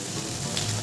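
Potatoes, onion and an egg frying on a hot griddle give a steady, close sizzle, even and unbroken for about a second with no talk.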